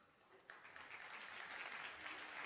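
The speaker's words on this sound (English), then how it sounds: "Let's hear the applause." Audience applause at an entrepreneurs' keynote in Athens, Greece: a full room of clapping swells up quickly and holds steady, dense and fairly loud, without any talk over it.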